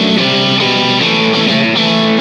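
An Aria Pro II Fullerton electric guitar with the middle and bridge pickups together plays a distorted riff, loud and continuous with sustained chords and shifting notes.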